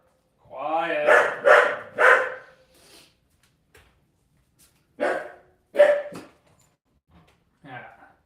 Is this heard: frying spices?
no